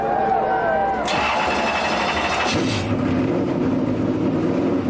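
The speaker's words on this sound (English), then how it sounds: "Start your engine." A Penske Ford Taurus race car engine fires up at an ARCA race at Kansas. It cranks and catches into a loud, rough roar that then settles to a steady rumble under other track noise.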